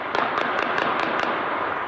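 Gunfire at anti-government street protests in Iran: a rapid string of six or so sharp cracks over a steady roar of crowd noise, heard at a distance in a news report.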